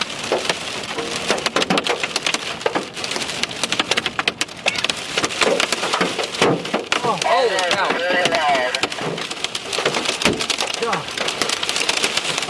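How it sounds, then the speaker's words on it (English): Large hail, close to three inches across, pounds a car during a storm chase, hammering the roof and glass in a relentless loud clatter of sharp cracks, with the front window shattering; a startled voice exclaims over the din. "we've lost a large portion of the front window, close to 3-inch hail"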